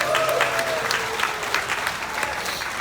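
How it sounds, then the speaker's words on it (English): Audience at a comedy and magic show aboard a cruise ship claps in a sustained round of applause, a dense steady patter of many hands filling the room with crowd noise. "We can vote for it by rounds of applause."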